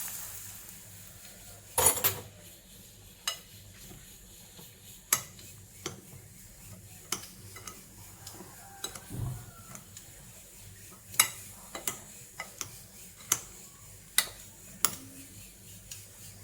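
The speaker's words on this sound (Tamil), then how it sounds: "இப்போ இந்த ஆயிலையும் இதில் சேர்த்து மிக்ஸ் பண்ணி கொடுக்கலாம்." A spoon stirs oil into mango pickle in a metal vessel, giving soft scrapes and repeated sharp clinks and taps against the pot. The sounds are close and fairly quiet, with some background noise.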